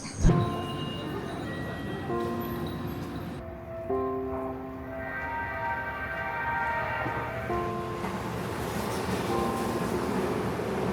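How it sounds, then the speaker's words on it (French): Train station ambience at Seibu Shinjuku station in Tokyo, a train rumbling with squealing, tonal brake and motor whines rising and shifting over steady background noise, with faint murmuring voices. "je suis à la gare de Seibu Shinjuku"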